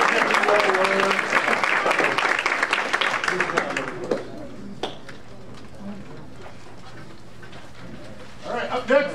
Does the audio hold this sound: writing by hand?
no